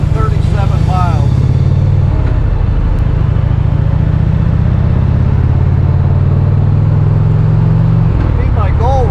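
Motorcycle engine, a heavy cruiser on a long-distance run, loud and close, rumbling steadily then sputtering and dropping off near the end as it runs out of gas, with faint voices at the start and end.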